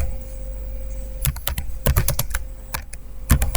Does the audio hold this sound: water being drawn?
no